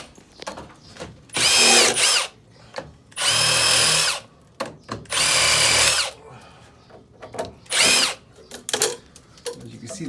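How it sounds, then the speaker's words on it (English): A power tool whirs in four separate bursts, each about a second long, as it loosens the bands on a horizontal 3-inch cast iron pipe. The bursts are loud and close, with quieter handling noises between them. "loosening up the bands, so we're able to remove this horizontal cast iron pipe."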